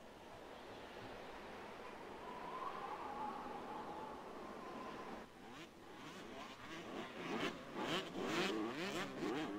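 Motorbike engines from the Command & Conquer strategy game hum at a steady drone, then a surge of revving and accelerating engine noise takes over, rising and pulsing loudly near the end.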